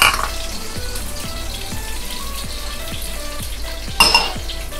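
Potatoes sizzling in hot oil in a pan, a steady loud crackling fry close up with a faint rhythmic background pulse and a brief louder burst near the end, no talk.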